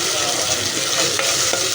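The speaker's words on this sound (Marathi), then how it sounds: "ही पेस्ट चांगली भाजून घ्यायची तेल सुटेपर्यंत" Spice paste for a soybean dish fries in oil, giving a loud, constant close sizzle with faint scraping from stirring throughout.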